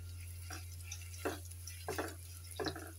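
Chopped onion and green chilies sautéing in a pan for poha, with a faint hiss beneath several short scraping stirs of a spatula at uneven intervals.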